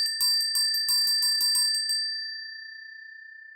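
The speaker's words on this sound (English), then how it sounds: "I think the hills now need to be alive with the sound of Amelia's bell" A small hand bell is rung in a quick run of about eight bright, ringing strikes over two seconds, then its clear tone hangs and slowly fades in an otherwise quiet room.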